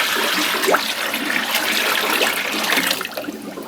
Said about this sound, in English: we're just going to start flushing out whatever product is left in the back of the hopper